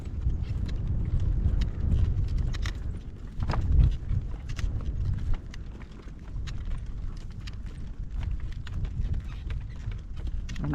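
A horse walks in a pasture during a gale-force wind storm, hooves clip-clopping in a steady walking rhythm under heavy roaring wind noise that nearly buries them.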